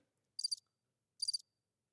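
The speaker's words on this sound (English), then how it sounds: "Did you just hit the crickets on me?" Two short bursts of cricket chirping, each a quick rapid trill, separated by a clear pause, crisp and isolated against near silence as a comedic sound effect.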